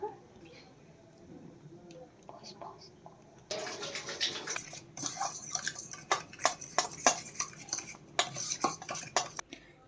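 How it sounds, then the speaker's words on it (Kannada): Spoon scraping and clinking in a bowl while ingredients for Korean BBQ veg Maggi are mixed with water, starting softly and turning into louder, rhythmic stirring clatter in the second half. "ನೀರು ಹಾಕ್ಕೊಂಡು ಮಿಕ್ಸ್ ಮಾಡ್ಕೋಬೇಕು"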